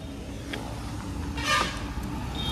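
A vehicle drives past on a road beside a parked motorbike, its engine rumble swelling to a peak midway and then easing off, with a short horn-like toot heard early on over steady traffic noise.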